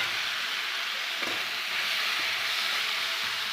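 Chicken hits half-sautéed onions in a hot pan, giving a loud, continuous sizzle that holds steady throughout, with occasional faint stirring scrapes and no talking.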